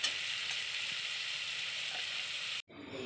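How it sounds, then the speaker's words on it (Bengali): Prawns frying in a hot pan give a steady, dense sizzle for a few seconds with no talk, then cut off abruptly and come back fainter. "মাছটা ভেজে নিই।"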